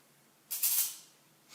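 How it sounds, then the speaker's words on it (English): An electric fly killer light of the butcher's-shop type gives a sudden sharp crackling zap that fades over half a second, followed by a fainter hiss starting at the end, with no talking. "That noise is the fly killer."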